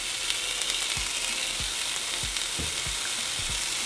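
Nopales cactus paddles sizzle steadily in a hot pan alongside onions and jalapeños for a molcajete mar y tierra, with a constant crackling fry and a few soft scraping stirs.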